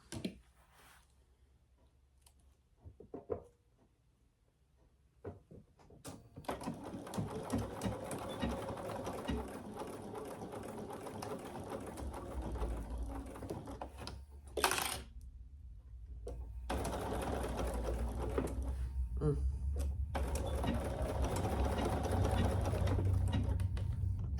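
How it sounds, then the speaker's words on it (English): Domestic sewing machine stitching a fabric pouch together, a steady mechanical whir that starts after a quiet moment, pauses briefly with a click, then resumes loud and continuous to the end. "we're going to sew that together"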